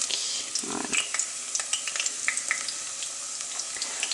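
Robinia (black locust) acacia flower fritters frying in hot oil, giving a bright, crackling sizzle with scattered pops and small scraping sounds as they are turned, close and steady.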